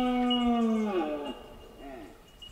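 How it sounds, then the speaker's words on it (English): A wild red deer stag roars across a gully on a hillside, one long, loud, drawn-out bellow that falls in pitch and then trails off into softer grunting. "we had a big roar coming out"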